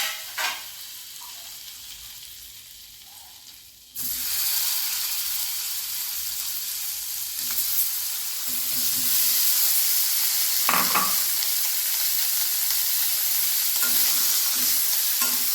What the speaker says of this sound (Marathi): आता आपण बटर टाकून पनीर थोडंसं तळून घेणार आहे। हलकंसं थोडं लाल होईपर्यंत बटरमध्ये तळून घ्यायचं।